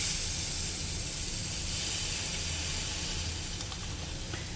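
A chaffle cooks inside a closed waffle maker, releasing a steady, close hiss of steam that continues unbroken with faint sizzling and no voices.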